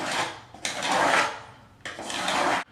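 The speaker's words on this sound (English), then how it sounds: "Now I'm going to take a straight edge and draw that line where I'm going to cut." A pencil scrapes along a straight edge on wooden subfloor in two close, distinct rasping strokes, each lasting about a second, with no talking.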